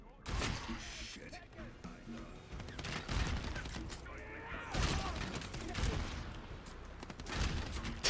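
Rapid shotgun blasts and gunfire in the zombie game Dying Light: The Beast, loud and close, several sharp bursts spread across the clip over dense game noise and shouting.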